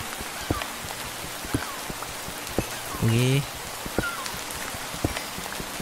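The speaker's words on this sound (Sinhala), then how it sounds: "මේකේ වැස්සේ සවුන්ඩ් එකත්" Steady rain patters in the Minecraft video game, a dense wash of drops punctuated by sharp, regularly spaced clicks, with a brief voice cutting in partway through.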